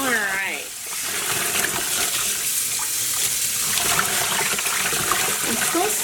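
Tap water running steadily into a sink, a loud continuous splashing and trickling flow close by, with a brief voice-like sound at the very start.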